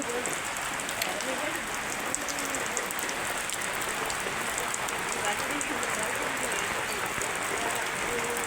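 Steady monsoon rain falls in Rampura Mota, a dense, even hiss of drops on surfaces that continues unbroken from start to finish, close by and moderately loud.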